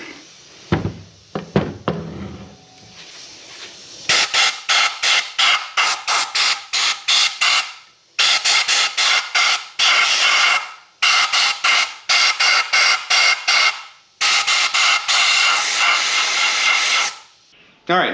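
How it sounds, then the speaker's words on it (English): Repeated bursts of compressed air blasting through the channels of an Evo 8 16G turbocharger from a 4G63 engine, loud hissing blasts in short pulses and longer sustained runs, with a few clicks at the start and no talking. "I'm trying to just kind of blow it down that way so it goes through the channel and then out the other side"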